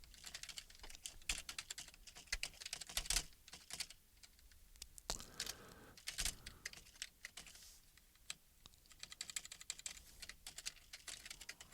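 Rapid clatter of a computer keyboard being typed on, with irregular bursts of keystrokes and short pauses, close and fairly quiet, no talking.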